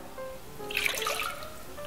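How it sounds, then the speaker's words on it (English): Tap water runs into a cooking pot as one cup is measured in, a short splashing trickle that swells in the middle and settles again, close and fairly soft. "And then into my pot, I'm going to put 1 cup of water."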